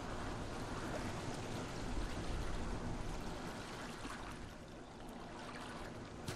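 River flowing in the survival video game Miasmata, a steady, moderately faint rush of water with a trickling texture, continuous and unbroken with no voices.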